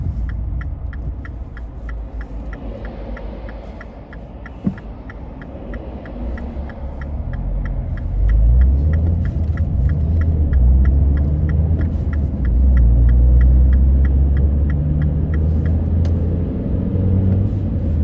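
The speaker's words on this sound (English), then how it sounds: "The car just wants to go without hesitation." A 2008 Mini Hatch One with the 1.4L engine heard from inside while driving, a low steady engine and road rumble that swells midway, with a faint regular ticking like an indicator running above it.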